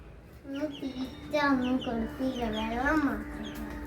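Close, repeated hen clucking with rising and falling calls, a bird's voice filling the short clip over a quiet background.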